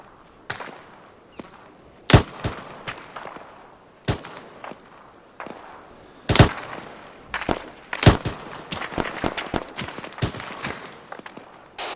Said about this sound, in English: Take it down to suppressing fire.